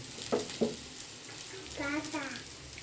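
Puti fish and potatoes fry in a pan with a soft, continuous sizzle, while a voice speaks briefly over it.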